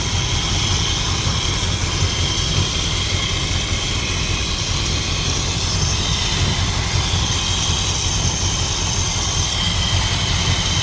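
A 440 big-block V8 in a 1977 Dodge Adventurer D150 pickup, freshly fitted with a known good carburetor, runs steadily at a loud, even idle throughout, close by with no talking.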